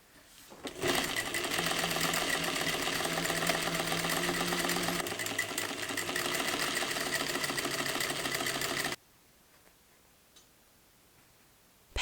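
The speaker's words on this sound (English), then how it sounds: "sew a double row of basting stitches along the sleeve hem" Sewing machine running a double row of basting stitches along the sleeve hem of a tiered bedsheet dress, a steady close, loud whir for about eight seconds before stopping abruptly into near silence.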